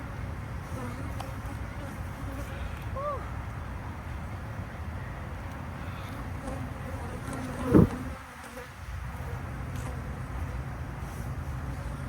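Dense, steady hum of honey bees swarming close around a beekeeper during a hive rescue, filling the whole stretch without pause, with one brief thump partway through.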